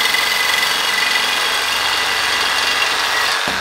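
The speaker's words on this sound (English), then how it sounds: "Sawzall with a metal blade on it, with a thin metal cutting blade on it" A Sawzall reciprocating saw fitted with a thin metal-cutting blade cuts through metal on a Ford Transit cargo van, a loud, steady, continuous grinding buzz that runs close up and cuts off abruptly just before the end.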